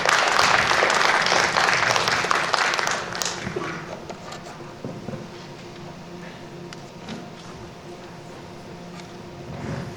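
An audience at an academic natural-science research presentation applauds loudly, the clapping dense and strong for the first few seconds before thinning and fading into a quieter hall murmur.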